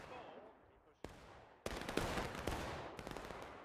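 Musket gunfire in a War of Rights battle at Hagerstown, with several sharp, loud reports spaced over a few seconds, some close and crisp and others trailing into echoing rumble.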